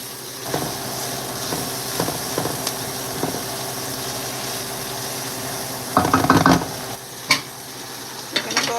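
Onions cooking in a pan sizzle steadily at moderate volume, with occasional scrapes and clanks of a utensil stirring them and a louder clatter partway through.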